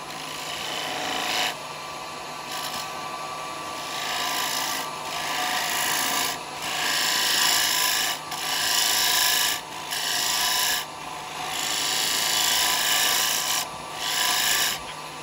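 A 6mm carbide cutter shaves wood on a lathe, its scraping rasp rising and dropping in bursts of a second or two, separated by brief lulls while the spinning lathe hums underneath.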